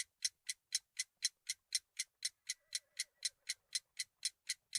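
A ticking time bomb built from an alarm clock with bell and hammer in the Sherlock Holmes: The Devil's Daughter video game gives a steady, even clock tick, about four per second, crisp and close, with a faint electronic tone partway through.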